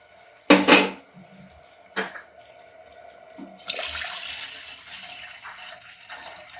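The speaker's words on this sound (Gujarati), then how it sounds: "અને એમાં જરૂર પૂરતું આપણે પાણી એડ કરી દઈશું." Water pours into a pot of farali morai after two quick clinks of cookware, a steady splashing rush that fills the second half, close by with no voices.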